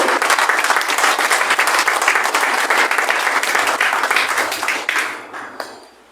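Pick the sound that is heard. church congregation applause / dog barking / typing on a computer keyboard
church congregation applause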